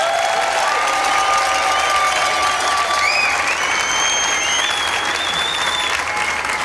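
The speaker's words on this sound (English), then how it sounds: "I really would like to have a big applause. I really would like to hear you, Paris" Big audience applause in Paris for the contestants at the 2018 World Chocolate Masters world final, a loud, steady wash of clapping with some cheering, and tonal music layered over it throughout.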